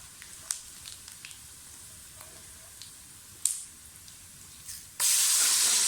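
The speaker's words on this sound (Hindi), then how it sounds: "प्याज फ्राई हो जाए तो साबुत मसाला डाल दें।" Onions frying in oil for mutton yakhni pulao, with whole spices being added: a quiet crackle with scattered pops first, then a sudden loud, hissing sizzle bursts out and holds at the end.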